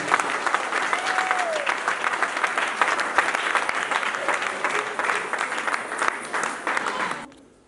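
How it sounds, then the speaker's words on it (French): A church congregation bursts into sustained, dense applause acclaiming Jesus, steady and loud throughout before cutting off abruptly near the end. "On acclame Jésus"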